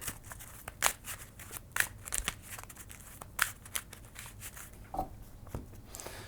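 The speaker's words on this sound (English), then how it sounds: "We're going to shuffle these back into the deck." Marvel Champions game cards are shuffled back into a deck by hand, a series of quick crisp riffling and tapping bursts at irregular intervals, close and fairly quiet with no talk.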